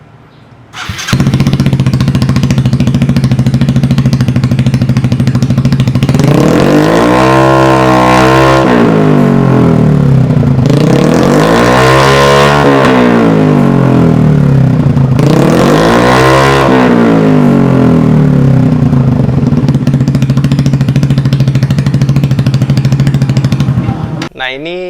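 A motorcycle fitted with a Proliner racing exhaust idles loudly with a deep, throaty note, then revs hard three times in rising and falling surges before settling back to idle.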